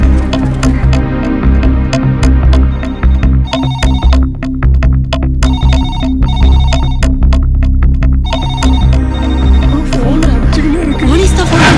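A phone rings repeatedly in a bank office during a comedy film scene. Loud, pulsing bursts of ringing sit over a thick, busy background hum with other noise mixed in.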